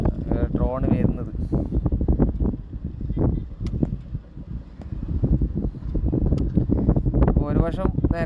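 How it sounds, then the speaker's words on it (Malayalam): Strong wind on a newly built stretch of the NH66 highway near Kasaragod buffets the microphone with continuous, gusting rumble and roar, heard under someone talking throughout. "പെരും കാറ്റുണ്ട്."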